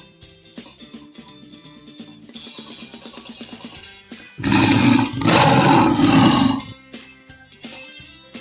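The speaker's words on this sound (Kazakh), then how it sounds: "Жолбарыс." A tiger roars in one loud, sustained burst lasting about two seconds, preceded by quieter rumbling and background sounds, with no talk.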